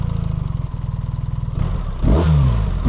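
A 2026 BMW R 1300 RT motorcycle cranks with a rapid, loud rhythmic starter chug, then catches and fires into a deep, throaty idle with a brief rev, close up.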